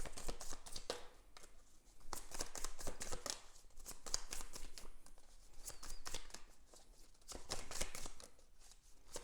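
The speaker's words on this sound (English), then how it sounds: "let's pull a clarifying card for death." Tarot cards being shuffled and pulled from a deck, giving a steady run of close, soft riffling and flicking bursts with brief pauses, no voices.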